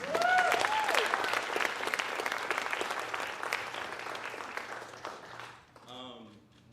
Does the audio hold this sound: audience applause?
yes